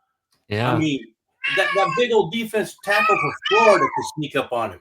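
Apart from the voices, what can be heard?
cat meowing in the background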